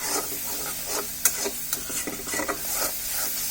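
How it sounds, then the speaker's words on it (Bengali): Tomatoes and masala for a chickpea curry are stirred and fried in a pan, giving a continuous close sizzle with repeated scraping strokes and a few sharp spatula clicks, without any talk. "এই যে দেখুন ভালোভাবে কষিয়ে নিচ্ছি।"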